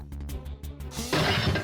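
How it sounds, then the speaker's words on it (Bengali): A mirror breaks with a sudden bright glass shatter after a few muffled knocks, the crash loud and close before ringing out briefly in a household comedy scene. "আরে দেখ আয়নাটা ভেঙে গেছে"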